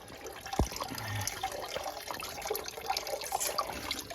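Water runs and trickles from a blocked boiler fitting after the cap is removed, a continuous close splashing flow with a brief clunk near the start and no talking.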